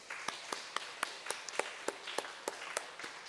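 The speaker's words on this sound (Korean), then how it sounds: "우리 남전도의 회원들께 격려의 박수를 보내면 좋겠습니다" A church congregation at a Sunday afternoon service claps in encouragement, a quiet, distant, roughly even beat of about a dozen claps.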